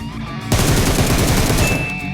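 Rapid, continuous automatic rifle fire from M4 and M7 guns in the mobile video game PUBG Mobile, loud and dense, bursting in suddenly after a half-second of quieter game ambience.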